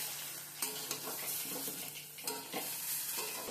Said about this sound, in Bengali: আলুগুলো মিশিয়ে নেব, একসাথে আমি ভাজা ভাজা করে নেব।